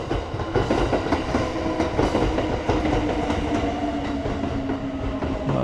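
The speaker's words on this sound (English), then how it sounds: "So here's another train. It's off to Matsusaka." A Kintetsu Suzuka Line train departs for Matsusaka with a steady, loud rumble and rhythmic wheel clatter on the rails, heard close and continuous throughout.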